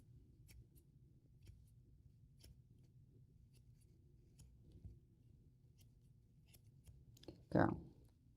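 Scissors trimming the hair on a dog's feet at a grooming salon in Tampa, Florida: faint, quick snipping clicks repeat through a quiet room, ending in one louder rustling snip.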